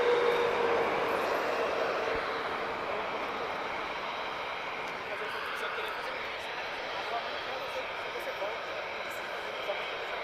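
An Airbus A320 airliner arriving at Lisbon Airport produces a broad, steady roar from a distance, fairly faint and continuous, while a person speaks over it.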